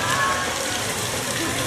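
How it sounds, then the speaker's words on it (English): Rain pours down outdoors at an amusement park, a dense steady hiss of drops hitting surfaces, loud and close throughout the short stretch. "Try to get out this rain right now."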